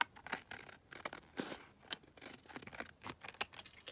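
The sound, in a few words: cutting the numbers off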